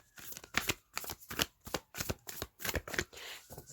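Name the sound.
shuffling tarot cards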